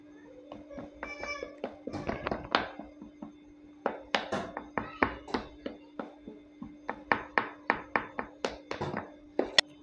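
A fork repeatedly pricks pizza dough on a tray, giving a series of sharp, close taps in irregular bursts with a steady low hum underneath, fairly quiet.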